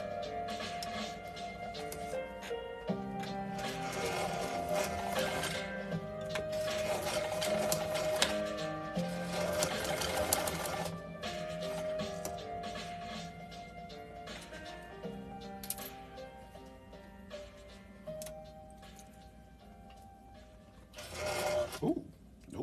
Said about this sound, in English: we're going to sew on these pieces of hook and loop tape